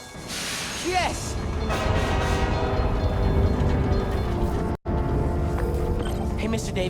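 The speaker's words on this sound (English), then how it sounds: "Come on, trusty New York subway." A New York subway train runs in the Spider-Man: Miles Morales video game with a loud, continuous rumble and metallic whine. The sound cuts out briefly partway through, then resumes at full strength.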